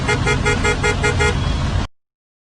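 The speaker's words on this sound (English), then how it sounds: "Some sounds are unpleasant, such as the sound of traffic." Busy road traffic with a car horn honking in short repeated toots over the steady rumble of engines, loud and close, ending abruptly.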